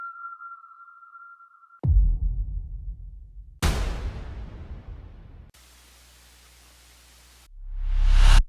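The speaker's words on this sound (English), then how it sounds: "I added a tape hiss and a riser and impacts" A steady synthetic tone gives way to a low rumble, then a burst of hiss-like noise, a block of flat static, and a swelling whoosh rising at the end.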